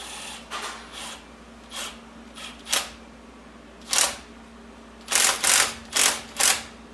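A hose clamp is tightened onto a push-lock hose in a series of short, sharp ratcheting clicks and zips, spaced unevenly and close up in a quiet space.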